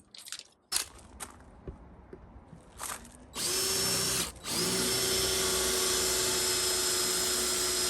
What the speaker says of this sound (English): So we're going to get these marked up and drilled first.